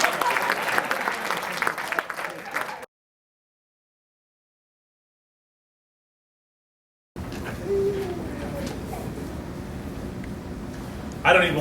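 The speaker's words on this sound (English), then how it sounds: "Richard, keep clapping" Audience applause at a certificate awarding ceremony, clapping heard before and after a stretch of dead silence, with voices and a brief hooting cheer over the later applause.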